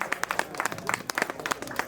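A small audience claps in a dense, steady patter of many hands, fairly faint and close, with no talk over it.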